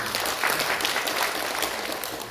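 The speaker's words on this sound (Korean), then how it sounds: "이인영 의원 또 박수 한번 부탁드립니다." Brief, steady applause from an audience at a Korean political forum's opening ceremony, many hands clapping continuously at moderate loudness.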